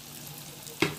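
Vegetarian Korean-style chicken pieces frying in hot oil over medium-high flame, a faint steady sizzle that flares into a sharp, louder crackle near the end.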